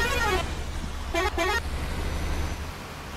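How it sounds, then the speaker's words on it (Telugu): Horns on a bus driving on a highway between Nellore and Bengaluru blare in a few short musical toots amid steady engine and road rumble, loud and close. "గైస్ మరి హార్న్ అయితే చూసారు కదా"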